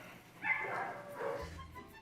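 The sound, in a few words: dogs barking at an animal control shelter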